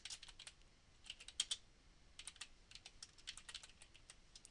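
Rapid typing on a computer keyboard, close and quiet, with bursts of crisp key clicks and a few brief pauses, no voices.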